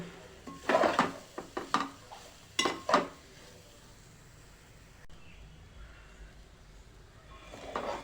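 A coconut and jaggery mixture is stirred in a pan: a few clattering scrapes of a spoon against metal in a quick cluster, then quieter intermittent scraping at a moderate distance, with no talk.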